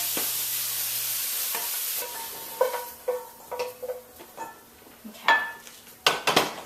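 Pasta being moved from a pot with a strainer into a pan, vegetables with asparagus and summer squash, begins with a soft sizzle, then a run of close metal scrapes, clinks and knocks, uneven and spaced over several seconds.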